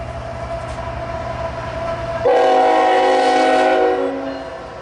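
A Norfolk Southern short container train led by a new 2019 SD70ACE locomotive rumbles past nearby while its horn blasts loudly in a sustained, steady chord over the rolling noise of the cars.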